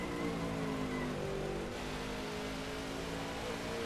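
A failing, overheating race car engine in the video game NASCAR 15, steaming and about to blow, gives a continuous strained drone with wavering harmonic tones and a hiss of noise, holding steady throughout.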